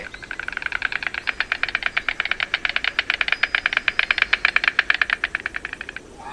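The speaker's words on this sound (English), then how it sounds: "stork," A stork clatters its bill in a long, rapid wooden rattle of evenly spaced clacks that runs for about six seconds at steady loudness and then stops.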